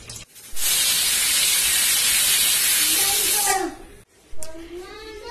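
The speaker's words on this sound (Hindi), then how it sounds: "अब मैं कुकर का ढक्कन लगा देती हूँ और इसे हमें 4-5 विसल तक हमें इसे पकाना है" A pressure cooker cooking mutton stew lets out a loud, sustained hiss of escaping steam that rises into a whistle before cutting off, followed by a shorter burst of whistling steam.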